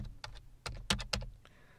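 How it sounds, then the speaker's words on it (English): Typing on a computer keyboard: a short burst of about six quiet, close key clicks in an irregular rhythm, with no talking. "So the way that we do that is by typing ps2exe"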